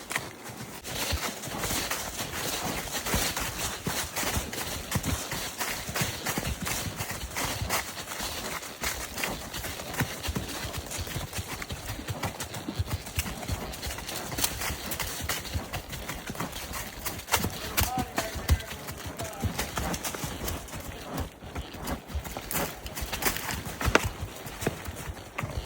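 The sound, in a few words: horse hooves clip-clopping on a rocky trail ride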